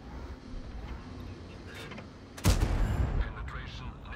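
A single loud tank gun blast in World of Tanks firing at an enemy's tracks, a sharp boom with a rumbling tail, set against faint battle ambience and a brief voice.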